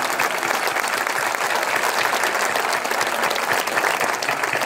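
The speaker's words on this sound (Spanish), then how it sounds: "A Coruña. Un aplauso." A crowd at a folk music and dance night applauds a folk dance and choir group from Oleiros, A Coruña, with loud, dense, sustained clapping filling the whole stretch evenly.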